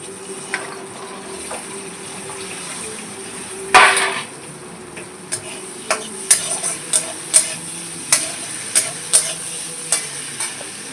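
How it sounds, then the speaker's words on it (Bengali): Green beans frying in oil in a wok, with a soft steady sizzle broken by a string of sharp metallic stirring clinks and scrapes, one louder knock early on, no talking. "এবার এই গাজর ভাজা তেলেই আমরা"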